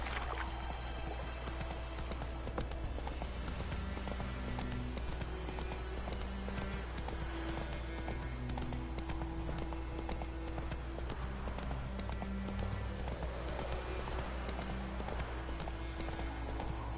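Steady clip-clop of the horse Roach's hooves in The Witcher video game, a continuous galloping rhythm blended with game music and ambient sound, with a neigh now and then.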